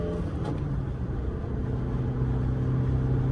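A Tofaş Şahin 1.6 driving steadily on the road at about 120 km/h, its engine giving a continuous low drone with road and wind noise, heard from inside the cabin without talk.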